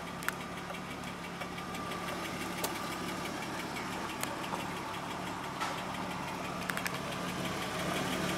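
A 1995 BMW 325i E36 engine idles steadily with a low, even hum and light mechanical ticking, heard close and alone for the whole stretch with no talking.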